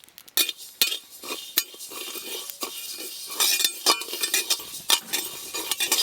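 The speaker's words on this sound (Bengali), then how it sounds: "এই যে মশলাগুলো নিয়েছি হালকা করে ভেজে নেব। সর্ষে পোস্ত আর দেবো গোটা জিরে।" Mustard seeds, poppy seeds and whole cumin are dry-roasted lightly in a pan, heard as repeated close scraping stirs and clinks of a metal spoon with a faint sizzle between strokes.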